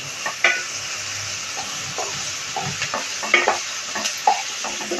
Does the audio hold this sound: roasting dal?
yes